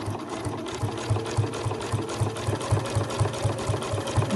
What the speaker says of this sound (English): And then stitching through all layers.